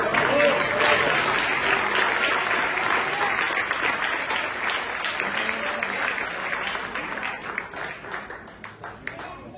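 Audience applause after a choir concert by an amateur singers' group, sustained dense clapping from a seated crowd that starts loud and gradually thins out, with some voices mixed in.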